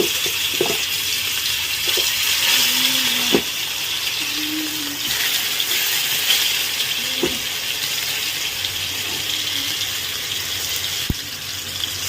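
Chicken frying in oil in a pan during iftar cooking, a steady close sizzle and hiss with occasional faint clinks and scrapes, no talking.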